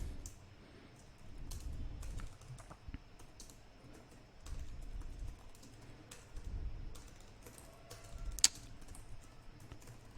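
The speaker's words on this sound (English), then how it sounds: "If I can type properly" Keys on a computer keyboard clatter in irregular bursts of quick taps with short pauses between runs, fairly close and moderately quiet over a low background hum.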